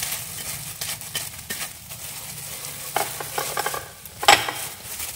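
Vegetarian spring roll filling with scallions and cilantro stirred in a pan, giving close, repeated scraping and soft sizzling with light clinks of a utensil against cookware throughout.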